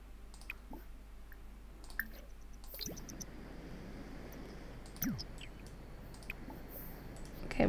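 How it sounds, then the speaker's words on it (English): Water being gathered in The Sims 4: quiet clicking and small liquid drips and squishy splashes run steadily at low volume, with a slightly louder splash near the end. "And let's gather up some water."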